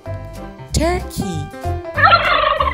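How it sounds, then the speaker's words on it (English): A turkey gobbles in a loud, rapid, warbling burst, followed by more fowl calls and clucks nearby. "Turkey."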